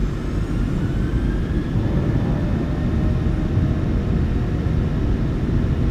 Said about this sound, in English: Takeoff power is set. We are rolling.